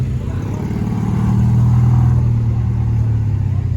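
At a car show, a loud car engine idles with a deep rumble, then revs up and holds at a throbbing, rising pitch close by, with some background voices.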